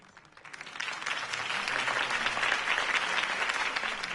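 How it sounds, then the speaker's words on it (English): A crowd in the video game Batman: The Telltale Series breaks into applause that swells quickly and holds steady, a dense wash of clapping that continues to the end. "could have heard that applause"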